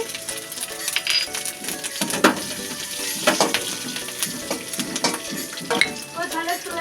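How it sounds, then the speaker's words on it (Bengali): Chopped ginger and green chilies fry in a pan, giving a steady close sizzle broken by repeated scraping and clinking from the stirring utensil, with no talking. "আদাটা ভালো করে ভেজে নেবো আমি একটু দিয়ে দিচ্ছি কাঁচা লঙ্কা কুচি"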